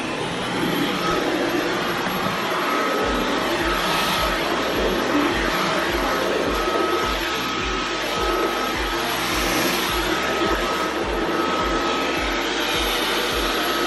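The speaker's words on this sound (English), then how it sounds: "I'm just going to do a quick vacuum." A household vacuum cleaner runs continuously close by during a car and closet cleanup, a loud steady whirring roar with a rhythmic thumping pulse underneath as it moves.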